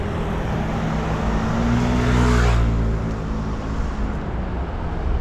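A car passes along Cacilhas Road in Macau, its engine and tyre noise swelling steadily to a loud peak close by, then fading as it moves on, with no talk.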